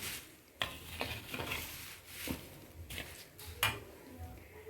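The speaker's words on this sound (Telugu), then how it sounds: "చక్క సన్నసగన ఎంచుతూ ఉండండి తిప్పుతూనే ఉండండి లేకపోతే అడుగు మాడుతాయి" Flattened rice with puffed rice being stirred and tempered in a pan, with scraping, clinking utensil strokes over a soft sizzle, steady and close throughout.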